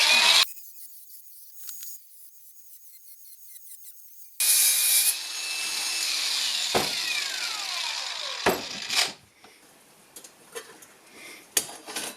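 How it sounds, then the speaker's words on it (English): A hand saw cuts a pie-slice wedge out of a homemade metal manifold. A brief scrape is followed by a quiet pause, then loud rasping strokes and a few sharp scrapes and knocks. "I'll now need to cut a pie slice out of it."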